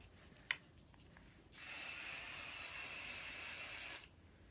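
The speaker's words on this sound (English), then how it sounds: "This is called the Hot to Trot Max Hold Hairspray." Hot to Trot Max Hold hairspray gives one continuous close aerosol hiss of about two and a half seconds, starting and stopping abruptly, with a small click just before it.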